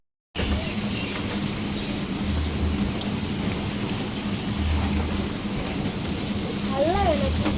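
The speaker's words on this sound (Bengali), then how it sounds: "মানে বৃষ্টি কমছেই না, সেই যে 12টায় শুরু হয়েছে।" Steady rain falls on a roof or street in a broad, unbroken hiss through the whole stretch, with low rumbling beneath and a brief tonal whine near the end.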